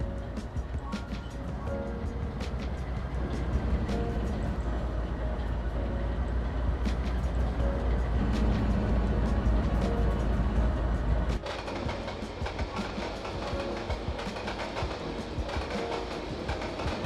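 Simulated train rolling along rails in Trainz Railroad Simulator 2022 on the Riverton line, a steady loud rumble with faint rail clatter that carries on throughout and drops to a lighter running noise near the end.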